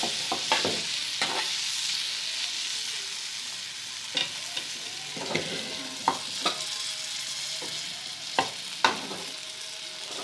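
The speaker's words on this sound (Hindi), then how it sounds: "अब हम इसको मिक्स करेंगे।" Green chillies coated in besan with squeezed lemon, tossed and mixed while frying in a pan, a steady sizzle punctuated by a series of sharp scraping taps from the utensil.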